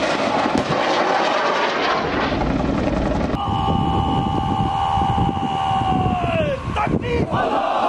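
A Z-10ME attack helicopter drones loudly with a sustained engine whine and rotor noise. The sound is mixed with crowd noise, then steadies into a tonal hum that winds down near the end.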